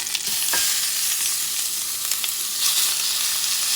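Lean bison meat chunks fry in a hot pan, a steady close sizzle running for a few seconds and broken by occasional stirring scrapes, with no voices.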